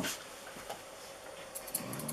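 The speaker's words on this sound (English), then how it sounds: "if you hear noises, it is definitely the dogs" Dogs growling and playing indoors, faint low rumbling growls and small scuffling sounds, fairly quiet and distant throughout.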